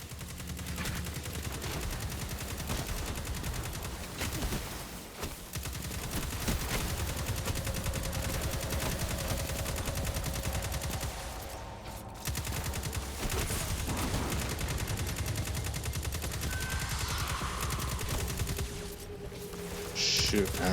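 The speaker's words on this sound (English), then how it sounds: "the ship's firing at me also" Gunfire from a Fallen ship in Destiny 2, sustained rapid bursts running almost without pause at a steady loud level, with brief dips and a few sharper game effects.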